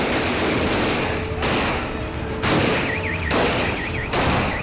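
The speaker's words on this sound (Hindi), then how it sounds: "पहाड़ी पर वाक़े मकानात से टीम सरेआम और पुलिस के एहलकारों पर पथराव के साथ साथ फायरिंग भी शुरू हो गई" Gunfire erupts during a police raid on a factory, fired from hillside houses, heard as loud, dense bursts of shots in quick succession over continuous crackling noise.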